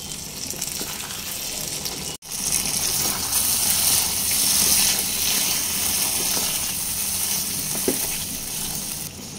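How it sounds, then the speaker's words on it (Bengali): Pointed gourd frying with cashew paste in a pan, a dense steady sizzle and hiss with watery bubbling and occasional scraping stirs, close and continuous after a brief sharp cut near the start. "কাজু বাদাম বাটা দেওয়ার পর আরও 2 মিনিট মতো এইভাবে নেড়ে চেড়ে একটু কষিয়ে নিতে হবে।"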